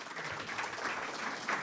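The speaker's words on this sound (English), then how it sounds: "Give an applause for this panel." A short burst of dense audience applause for a discussion panel at a public event, steady and fairly loud clapping throughout.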